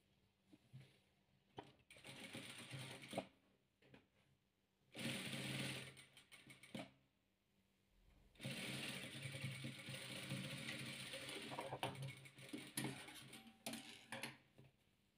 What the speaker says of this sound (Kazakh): Міне қызылымызбен қызылымызды тігіп алды